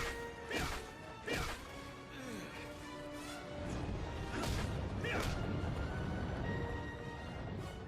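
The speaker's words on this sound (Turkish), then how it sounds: "Chris kayayı yumrukluyor." Chris punches a boulder in the video game Resident Evil Village: heavy smashing impacts land in two pairs, early and midway, over a rumbling game backdrop while a voice talks.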